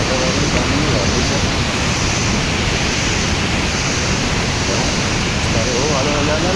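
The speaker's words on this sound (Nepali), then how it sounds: "सिडीबाटै यति ठुलो पानी झरेपछि कस्तो होला।" Loud, continuous rushing roar of a waterfall in Nepal cascading down a stairway, dense and unbroken from start to finish.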